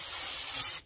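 A short, loud burst of brake parts cleaner hisses from an aerosol can onto a Nissan Armada front brake rotor, a single close spray that cuts off abruptly.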